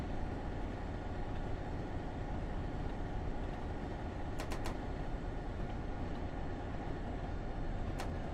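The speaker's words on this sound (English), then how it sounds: "This locomotive is quite powerful, it seems. It accelerates quite quickly" A New York Central locomotive on the Boston–Albany line in Train Simulator gives off a steady, moderately faint low rumble as it accelerates, with a couple of brief high clicks.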